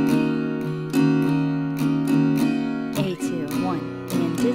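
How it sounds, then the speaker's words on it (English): Acoustic guitar strummed in a steady rhythmic pattern, bright strokes on each beat with quicker strums near the end, played alone and close. "So with the strumming pattern, it would sound like this."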